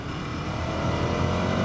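A 2015 Ducati Scrambler motorcycle ridden at steady speed, its engine droning loudly and continuously close by, with wind roar and no voices.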